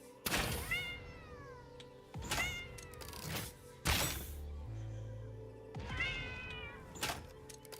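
Several cat meows in a video game, repeated drawn-out cries spaced a few seconds apart with dull thuds and a low buzzing tone between them, close and fairly loud, no talking.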